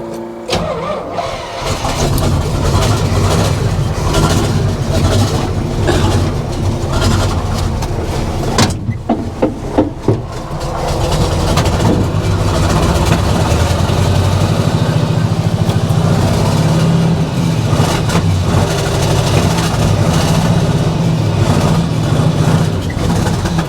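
A 1972 Chevy C/50 truck with a big block engine and a Schwartz bed starts after years of sitting, cranking and catching, then settling into a loud, rough, rumbling idle that briefly stumbles midway before running steady close by.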